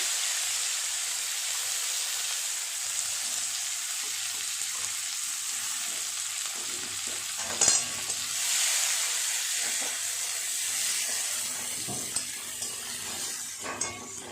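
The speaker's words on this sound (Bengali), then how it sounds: "ফোড়নের জন্য গোটা মশলা একটা শুকনো লঙ্কা একটা তেজপাতা দিয়ে দেব কোচানো পেঁয়াজ" Whole spices, a dried red chili, a bay leaf and sliced onion sizzle in hot oil for a bhangor fish kalia, a steady close frying hiss with a few louder crackles and no talk.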